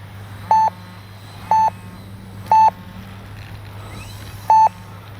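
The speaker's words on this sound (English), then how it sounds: "Timer's expired, I know." An RC plane's flight timer, on a HobbyZone Carbon Cub S2 setup, sounds four short electronic beeps at even intervals over a low steady hum, with a faint wind-like background between them on a windy day.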